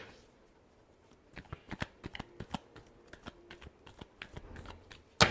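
Tarot cards are shuffled close up in a series of quick riffling bursts and flutters that build to a sharp final slap at the end, with no speech over them.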